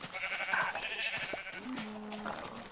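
Sheep bleating on a farm in the video game Muse Farms: a few wavering, nasal bleats at moderate distance, one sharper cry standing out in the middle, with no talk.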